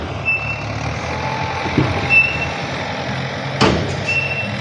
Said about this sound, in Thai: ดินได้ เทลงแล้วเป็นรถสิบล้อ